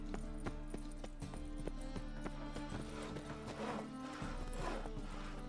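Roach the horse's hooves clip-clop in a steady walking rhythm in The Witcher 3, close and clear over a low ambient game score, with a faint snort.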